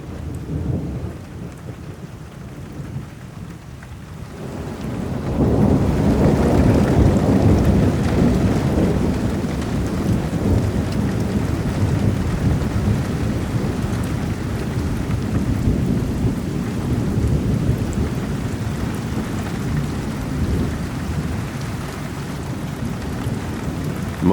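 A thunderstorm in Kentucky brings steady heavy rain pattering on surfaces, with a deep rumble of thunder swelling after a few seconds and rolling on under the downpour, no voices.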